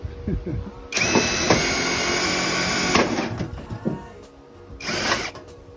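Power drill spinning with a nut driver bit during a mobile home vent duct repair, a loud steady whirring run of about two seconds followed by a shorter second burst, with a person talking.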